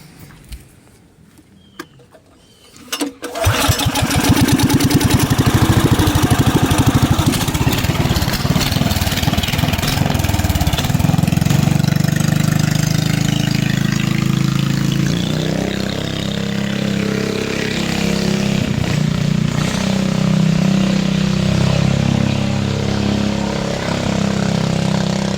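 A 420cc go-kart engine with no muffler starts after a few seconds of quiet, then roars loud and harsh close by, holding a steady rumbling drone with slight shifts in pitch for over twenty seconds.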